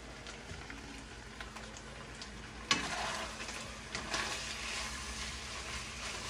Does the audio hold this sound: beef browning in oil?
yes